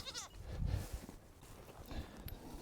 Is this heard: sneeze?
no